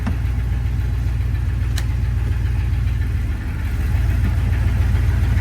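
Car engine running steadily and loudly on a road trip while the driver works it in and out of gear, a constant low drone with a brief dip and a slight rise in pitch, no voices.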